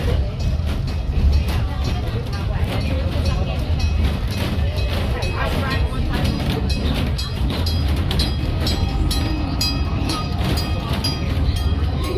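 A heritage park train ride in Canada, heard from aboard as a continuous loud rumble and rattle of the rolling train throughout, with faint voices in the background.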